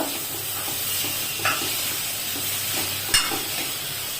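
Soaked moth beans (matki) with kidney beans, chickpeas and black-eyed peas sauté in a hot pan, giving a continuous sizzle and hiss, with a couple of brief scraping stirs.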